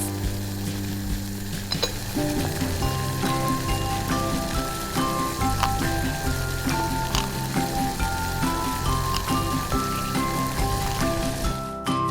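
Clams boiling in a pot of water, a steady, dense bubbling and crackling that runs unbroken, close and even in level, with no voices.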